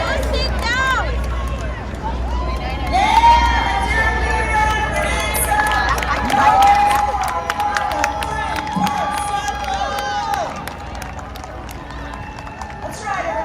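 At an outdoor summer games event, a crowd cheers and shouts while participants run past, with lively babble, raised voices and whistles-like squeals throughout and nearby talk over it.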